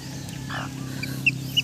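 A hen and her chick cluck close by: a low soft clucking under a steady hum, with a couple of brief high peeps near the end.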